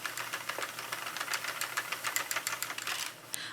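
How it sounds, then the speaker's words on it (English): Sentro knitting machine cranked back and forth, a rapid run of close plastic clicks and clacks in a busy mechanical rhythm, briefly pausing near the end before another click. "keep cranking back and forth until you achieve your desired length of your project"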